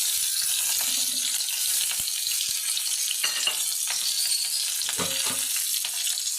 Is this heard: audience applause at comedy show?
no